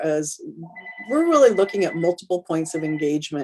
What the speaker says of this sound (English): Pardon the phone in the back